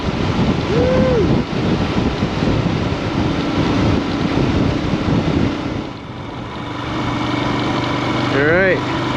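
Heavy, steady wind buffeting the microphone while riding a Royal Enfield Himalayan motorcycle on the highway from Alberta into British Columbia, a loud continuous roar with the engine droning underneath and a brief whoop from the rider.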